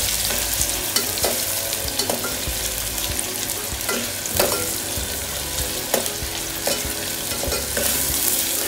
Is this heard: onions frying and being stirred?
yes